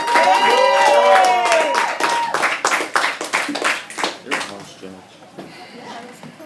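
Crowd clapping and cheering at a poetry slam in Orlando, loud at first under a shouting voice, then breaking into individual sharp claps that thin out and fade.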